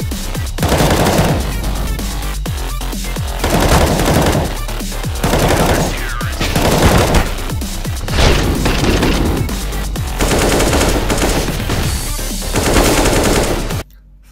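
Loud, continuous gunfire and explosive booms from the video game CS:GO during a headshot-heavy fight, repeated bursts packed tightly over the whole stretch before cutting off abruptly.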